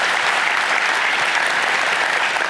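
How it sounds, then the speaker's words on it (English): Loud, close applause from a tech conference crowd cheering a database administrator, a brief dense burst of many hands clapping at once. "round of applause for the DBA, please"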